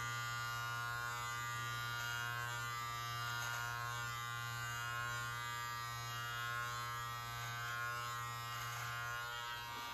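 A Live Bearded MT-1 beard trimmer cutting a medium-length beard, a steady close electric buzz with a constant low hum that shifts slightly in texture as it moves, running continuously without talk.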